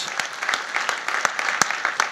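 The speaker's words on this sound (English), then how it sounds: "give yourselves a round of applause" An audience at a sustainability keynote conference claps steadily, a dense patter of many hands with a few sharper nearby claps, filling the whole short stretch.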